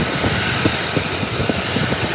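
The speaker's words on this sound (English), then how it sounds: "There's another F-35 coming over." An F-35 fighter jet passes over RAF Lakenheath, a loud, continuous broadband roar of jet engine noise that fills the moment with no talking.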